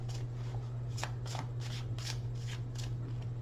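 Tarot cards riffle and slide together in a steady run of soft, papery shuffling, close and quiet over a low background hum.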